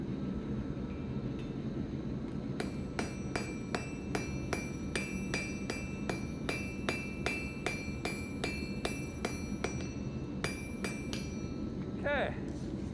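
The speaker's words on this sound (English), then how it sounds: "We're ready for the second weld." Repeated hammer strikes ring out on a hot fire poker during a forge weld, sharp metallic clinks in a steady rhythm, loud and close, over a low roaring forge fire and faint background talk.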